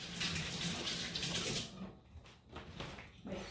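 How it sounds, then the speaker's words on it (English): Liquid Jello mixture poured onto a fruit tart, a steady close splashing pour that stops partway through, followed by a few softer dribbles. "now we're gonna go ahead and pour that Jello"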